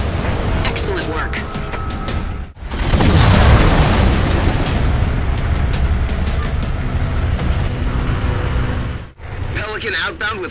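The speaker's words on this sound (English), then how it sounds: "Pelican outbound with fire teams Crimson and Switchback on board" A Pelican dropship takes off in Halo 4: a loud, deep rumbling roar of engines swells and holds for several seconds, bracketed by short cuts, with game dialogue audible at the start and end.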